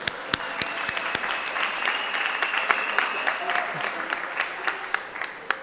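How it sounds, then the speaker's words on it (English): Audience applause at a law faculty celebration honouring Justice Chris Jafta, a dense patter of many hands with some sharp individual claps standing out, steady and moderately loud. "let's give her a big round of applause"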